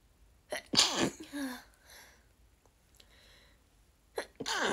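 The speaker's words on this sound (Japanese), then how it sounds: "くしゃみ出そう。" A sneeze bursts out with a sharp breathy onset, followed by a second similar burst near the end, separated by quiet room tone.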